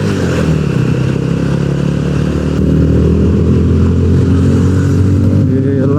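A Yamaha Ronin 225 motorcycle engine with a changed front gear drones steadily at high revs, a loud close continuous rumble that rises slightly midway, with no talk.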